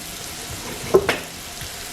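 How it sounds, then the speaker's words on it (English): Pancakes sizzle softly in butter in a hot pan over medium heat, a faint steady crackle with a couple of brief louder pops, no voices. "we're gonna let these hang out in the frying pan for a few minutes"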